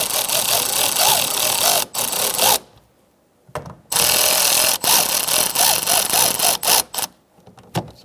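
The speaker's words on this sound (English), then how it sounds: "And then we're gonna put our last bolt in. Let's snug them up." Power tool tightening the side mirror bolts on a 2012-2017 Hyundai Accent: loud whirring runs of a driver with short pauses and one longer break, the motor rising and stopping in close succession.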